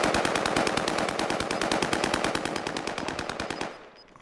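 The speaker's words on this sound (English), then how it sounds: "Oh, under heavy fire here." Rapid automatic gunfire in the video game Fortune's Keep rattles on in a dense, loud, unbroken burst for nearly four seconds, then stops abruptly.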